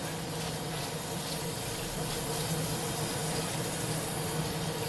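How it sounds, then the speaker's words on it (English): Kitchen tap water runs steadily into a sink while cabbage is washed, a continuous close splashing rush with no speech. "so we're going to wash our cabbage again. Nice and clean."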